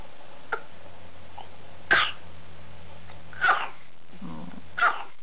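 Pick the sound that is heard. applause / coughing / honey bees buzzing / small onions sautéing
coughing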